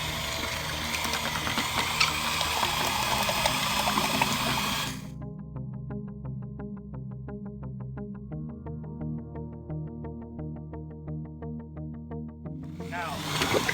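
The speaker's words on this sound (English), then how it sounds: "now we're going to pour in the hardener," Isocyanate hardener, part B of a coating mix, pours into a container with a steady liquid trickle, moderately close, set against a low mechanical hum; a voice talks during the first few seconds.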